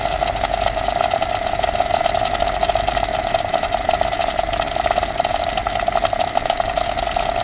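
Industrial mixers churn palak paneer sauce inside large factory kettles, giving a steady, even mechanical whir with a watery slosh that holds constant and fairly loud throughout, with no voices.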